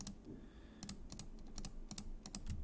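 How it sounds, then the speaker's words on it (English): Computer mouse clicks sound while the Control key is held during object selection in 3ds Max: a quiet, irregular series of sharp little clicks, close up over faint room noise. "I'm just holding down Control whilst I'm clicking them."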